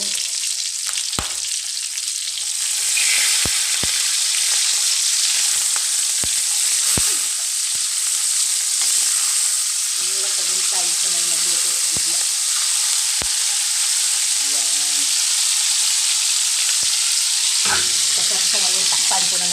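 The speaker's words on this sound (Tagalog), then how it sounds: "Kaya lang nangangaway yung mantika." Hot cooking oil sizzles steadily while milkfish (bangus) fries in a pan, broken by sharp popping spatters at irregular intervals, close up, with brief bits of talk partway through.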